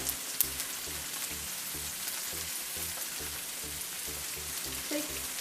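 Salmon fillets with skin frying in oil in a pan, a steady hissing sizzle throughout at moderate level, with a low rhythmic thumping underneath.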